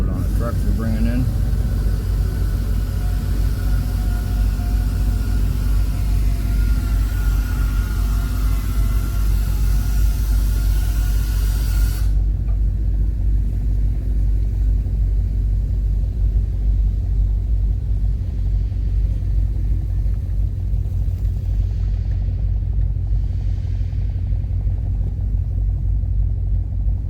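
A truck bringing a load into a boatyard marina rumbles loudly and steadily throughout, a deep engine drone with hiss and clatter over it in the first half that falls away to the plain low rumble.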